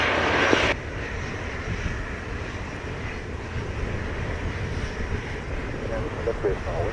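A Boeing Dreamliner airliner landing at Montego Bay airport in Jamaica, its engines a steady, loud broadband roar that holds for several seconds after a brief louder burst at the start, with radio talk heard over it.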